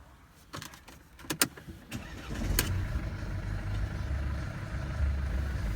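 A used car with a manual gearbox, being sold for import, starts up after a few clicks and knocks, then settles into a steady, close engine idle with a low continuous rumble.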